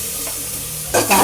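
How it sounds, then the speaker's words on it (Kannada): A spicy tempering of spices sizzles steadily in a pan, then water is poured in near the end, giving a sudden louder hissing burst for drumstick-leaf bassaru. "ಖಾರನ ಸ್ವಲ್ಪ ಒಗ್ಗರಣೆ ಒಳಗೆ ನೀರು ಹಾಕ್ತಾಳೆ"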